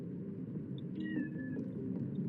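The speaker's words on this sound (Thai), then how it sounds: "มีแมวด้วย" In the Roblox game Resting Place, a cat gives a short, faint meow that sits above a constant low rumble of rain and water ambience, with no talking.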